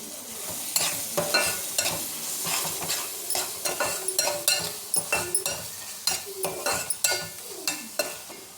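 Spinach curry sizzles in a pan while a spoon stirs and scrapes it in quick, repeated strokes, producing close, rhythmic clinks over a constant frying hiss.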